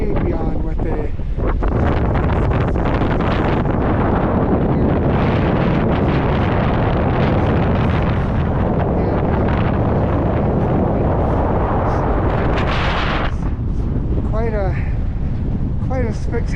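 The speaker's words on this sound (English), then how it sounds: "But the wind is just crazy, way beyond what they" Strong, roaring wind buffets the microphone near the summit of Basin Peak in the Tahoe Sierra backcountry, a steady loud rush throughout with gusts, and voices faintly mixed in under the blast.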